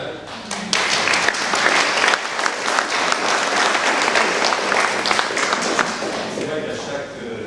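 Sustained applause from a conference audience, dense and even, with many hands clapping at once, filling the room throughout and fading slightly toward the end.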